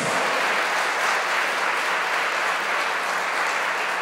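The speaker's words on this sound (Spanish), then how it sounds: "Denle el aplauso al Señor, hermano." Congregation applause during a Monday worship service at church, a continuous wash of clapping with no breaks, moderately loud and even throughout.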